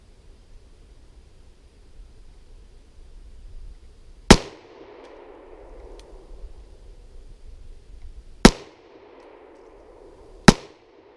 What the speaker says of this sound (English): let me shoot the other target